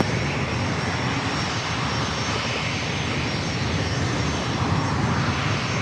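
A Boeing jet roars loud and continuous during its takeoff roll at San Diego airport, a steady broadband engine rumble that holds without a break.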